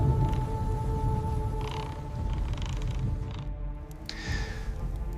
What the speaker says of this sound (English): Shem, looking up at the ceiling creaking under the storm, muttered